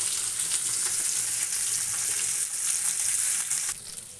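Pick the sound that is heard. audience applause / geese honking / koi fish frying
koi fish frying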